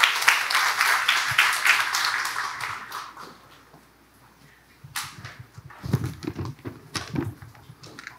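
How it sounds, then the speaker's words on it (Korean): A congregation at a Korean church closing service for a lay-leaders' graduate school claps loudly at first, then the applause fades to near quiet before scattered, closer claps and shuffling return. "자, 오실 때 박수 부탁합니다."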